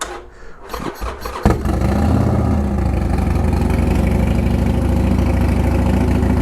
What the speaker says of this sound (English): Listen to the engine roar.